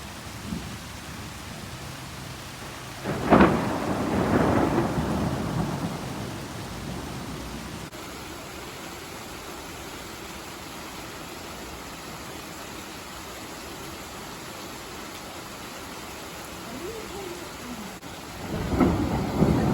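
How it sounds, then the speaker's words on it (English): A thunderstorm with hard rain: a steady hiss of heavy rainfall throughout, broken by a loud rumbling thunderclap early on and another building at the end, with no talking. "Thunderbolt and lightning. Very, very frightening. Oh, and now the hard rain along with that."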